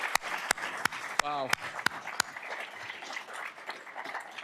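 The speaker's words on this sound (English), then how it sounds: "let's give him another round of applause" Audience applause at a business gathering, a steady wash of clapping from a crowd under a host's voice, with a few sharp louder claps near the start and a brief exclamation.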